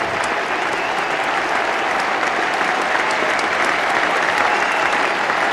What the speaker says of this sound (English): The crowd on the feet as the 600 comes up.